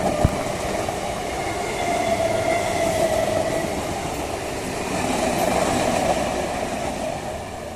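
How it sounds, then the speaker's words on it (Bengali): The Sealdah–Krishnanagar City local train passes Kanchrapara Workshop Gate railway station with a loud, steady rumble and rolling wheel noise that swells and holds close by throughout. "31829 up Sealdah Krishnanagar city local."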